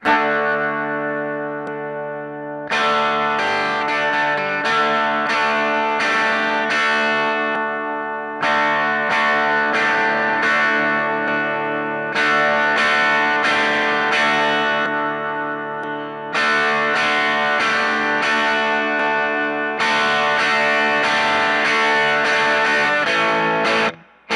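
A DemonFX King Of Drive overdrive pedal on its right-side setting drives a distorted electric guitar, loud and sustained, playing chords in several bursts with short gaps between them.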